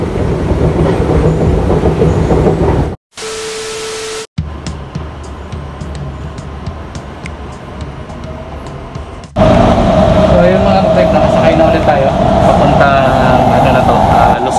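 Riding aboard a train in Qatar, a steady loud rumble of the carriage fills the space, broken by a brief chime and a cut, then a louder stretch with wheel hum rising, close and continuous.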